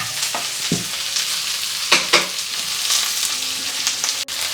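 Lamb for a wrap fries in a pan with a steady close sizzle, broken by a few stirring scrapes and clinks.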